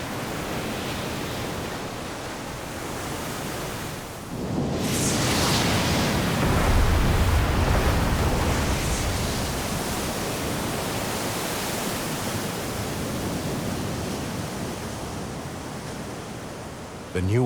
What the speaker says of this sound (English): The power of the waves collides against the ramparts of the volcano.